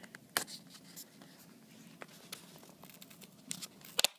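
Tape is peeled off the packaging of a Microsoft Surface RT tablet in a series of faint, crisp scratchy pulls and small sharp ticks, close up and quiet, with no talk.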